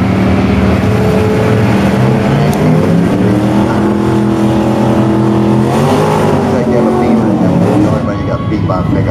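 A BMW 335 and an old rusty pickup truck drag racing, engines roaring loud and steady with rising harmonic revs through the run, while a voice talks over the noise.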